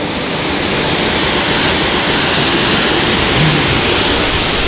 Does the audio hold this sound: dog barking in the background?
no